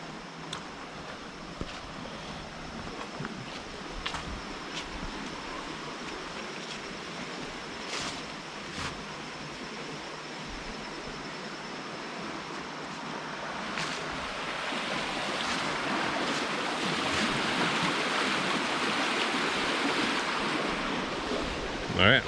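Brown, high river water in the North Carolina Piedmont rushes in a steady broadband roar, swelling louder toward the end, with some wind buffeting the microphone and no talk.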